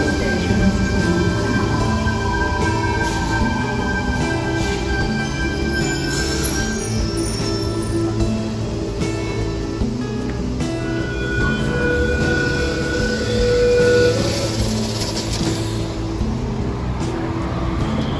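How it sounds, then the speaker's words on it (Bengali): A Sydney commuter train pulls into a station at platform 4, its rumble and rolling wheel noise steady throughout, with brake squeals and metallic whines rising and fading over the station's background sound. "এবং বলতে না বলতেই কিন্তু ট্রেনটি চলে এসেছে"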